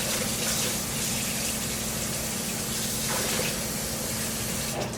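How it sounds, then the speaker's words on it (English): Cold tap water runs steadily into a bowl of sliced potatoes being prepared for canning, a continuous close rushing hiss that holds at an even level for the whole stretch. "fill it with cold water"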